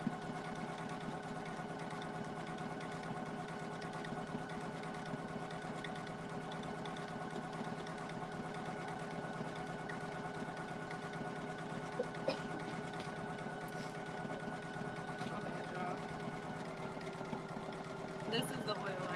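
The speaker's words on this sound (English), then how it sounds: "No, Chris, you don't have to stop the machine to change the tension or the speed." A Poolin EOC06 single needle embroidery machine runs steadily and continuously at a constant pitch with a busy mechanical hum throughout, while a voice talks over it.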